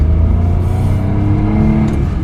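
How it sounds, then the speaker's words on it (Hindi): The engine of a Maruti 800, a small Japanese-engineered car, idles and revs with a steady, loud, close-up hum and rising harmonic drone, with no voices. "if you don't enjoy this music of a Japanese engine"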